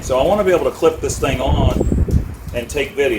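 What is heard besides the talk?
No everyday noise stands out behind the speech.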